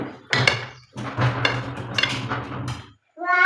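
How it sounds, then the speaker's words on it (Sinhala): A knife cuts set lentil batter into small pieces on a dish, giving a series of close clinks and taps of metal against the plate over a steady low hum, with a short pause near the end. "කෑලි කපා ගමු කොට කෑලි. බය නැතුව කෑලි කපන්න පුළුවන්"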